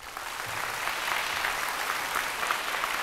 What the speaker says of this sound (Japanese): 改めてお二人に拍手をお願いします